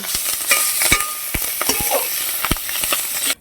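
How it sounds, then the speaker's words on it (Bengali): Fish and leaves frying in oil with black cumin, a crackling sizzle punctuated by sharp stirring and spatula scrapes against the pan, close and busy, ending abruptly. "দেখেন আমি কি সুন্দর ভালো করে ভেজে নিছি"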